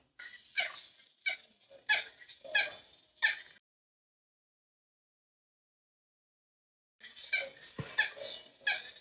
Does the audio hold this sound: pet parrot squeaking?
yes